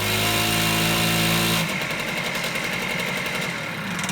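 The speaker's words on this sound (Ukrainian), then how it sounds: "Заводиться повний газ, але нікуди та штука не їде" A Honda Lead 90 scooter engine, which has lost its pulling power, revs hard at full throttle with a loud, steady buzzing drone, then drops to a rougher, rattling running sound, close and without talk.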